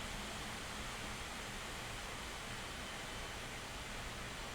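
A Lenovo Legion Pro gaming laptop's cooling fans blow with a steady, even broadband whoosh that holds constant and fairly faint throughout, with no talking.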